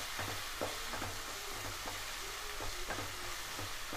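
Chicken masala seasoned with pepper powder sautéing in a pan, a steady broadband sizzle with spatula scrapes landing every half second or so, close and continuous with no voices.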